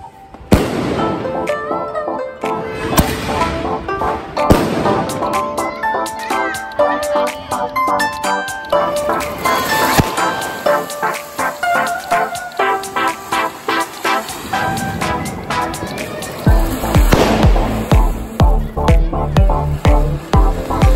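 Diwali firecrackers crackle and pop in rapid, overlapping bursts in a housing society, loud and continuous, with voices heard faintly among the explosions.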